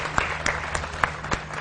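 A studio audience on a morning television show claps for a guest in short, scattered, uneven claps, a few sharp hits over a low electrical hum, fairly near and with no speech over them.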